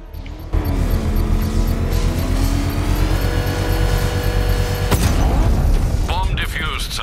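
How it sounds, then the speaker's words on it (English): Controlled bomb explosion set off with a power winch in the video game Batman Arkham Knight: a droning vehicle engine, then a sudden loud blast near the end, with voices talking over it. "I can use the power winch to trigger a controlled explosion"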